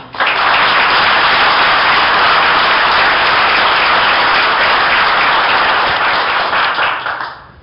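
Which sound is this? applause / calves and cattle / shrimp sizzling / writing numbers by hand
applause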